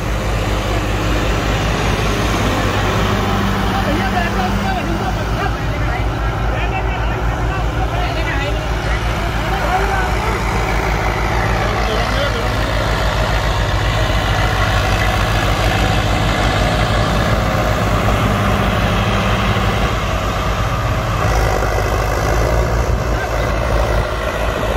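Steady, loud diesel tractor engines rumble and idle continuously during a 4x4 tractor contest, with a constant low drone and faint chatter of people in the background.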